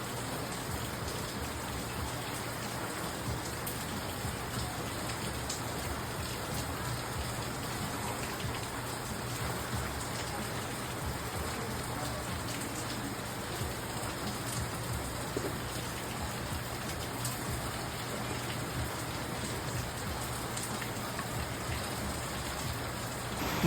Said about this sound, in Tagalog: ngayon ay sobrang lakas ng rain